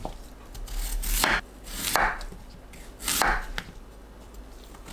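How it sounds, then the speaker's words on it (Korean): A knife cuts raw potatoes into thick 1 cm rounds on a board, with three firm slicing strokes and a crisp tap as each cut lands, close and alone. "감자는 1cm 두께로 둥글게 썰어주세요."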